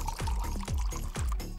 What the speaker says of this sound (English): poured a glass of milk